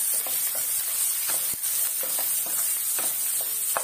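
Onions frying in oil with a little salt, a steady loud sizzle and hiss with occasional soft stirring scrapes and small pops, close up and continuous.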